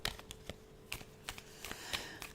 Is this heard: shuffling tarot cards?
yes